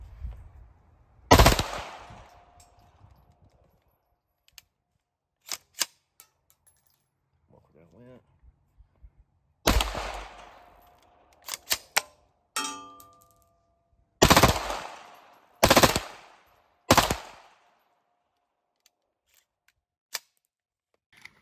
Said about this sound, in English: KCI Glock seem to be running really good through it with the rare breed on here.